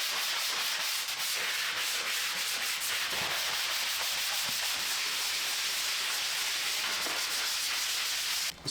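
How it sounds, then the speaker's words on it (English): A drywall patch is hand-sanded with an 80 grit sanding block, making a steady, close scratchy rasp of rapid back-and-forth strokes that runs continuously with no talking. "This is an 80 grit sanding block. Kind of give it a quick hit, knock down any high spots"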